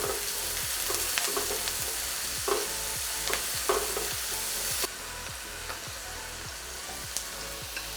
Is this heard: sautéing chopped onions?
yes